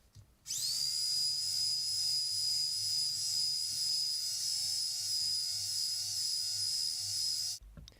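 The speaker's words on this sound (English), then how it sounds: "To sand the edges, I find it easy to stack all the pieces together and clamp them together." An electric sander works the edges of stacked, clamped reclaimed wood boards, spinning up sharply to a steady high whine that holds for about seven seconds, then cuts off abruptly.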